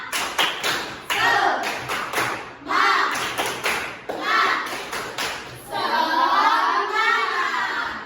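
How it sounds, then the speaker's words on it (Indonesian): Primary school class doing a rhythmic 'tepuk semangat' clapping chant, with bursts of synchronized claps in patterned groups alternating with children's chanting voices, close and lively, ending in sustained group voices. "Coba kalau Us ini bilang tepuk semangat."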